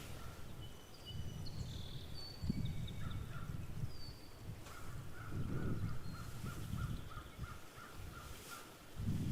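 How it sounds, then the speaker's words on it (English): Birds calling outdoors in Canadian nature, scattered chirps and a repeated run of rapid calls over a low steady background rumble, moderately distant and fairly faint. "You hear the birds."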